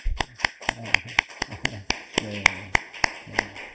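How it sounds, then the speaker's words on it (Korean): A congregation claps in welcome at a Sunday worship service, producing sharp, evenly spaced claps close by, with a voice briefly speaking over them. "여러분 크게 환영의 박수 해주십시다"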